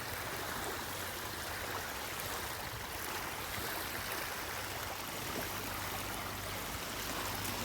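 Water flows steadily into a concrete channel at a construction site, a continuous broadband rush like a nearby stream, with no voices and an even level throughout.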